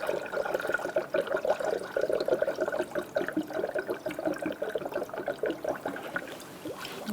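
Coolant glugs and splashes as it is poured into the radiator filler neck of a 2012-2017 Hyundai Accent, a close, continuous gurgling pour with rhythmic bubbling pulses.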